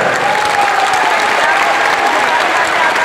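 Loud, steady applause from a large crowd at a Bhojpuri stage show in India, sustained clapping throughout with no break.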